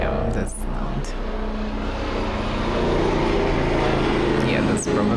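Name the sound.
helicopter or aircraft flying very close overhead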